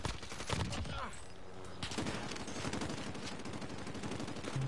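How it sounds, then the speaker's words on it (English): Gunfire in Call of Duty Warzone at Verdansk, rapid automatic bursts crackling in a dense rhythmic stream, fairly close and continuous over a low rumbling background. "Shoot down their heli!"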